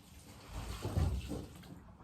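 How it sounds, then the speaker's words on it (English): Water pours into a horse feed bucket holding carrots and feed, a steady soft splashing gush that swells in the middle and tapers off, fairly close and fairly quiet. "And then a bunch of more water."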